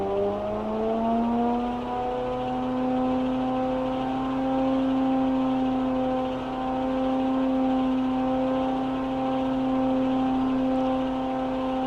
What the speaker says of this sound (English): This is coming on song now, but the turbos both sides are coming in.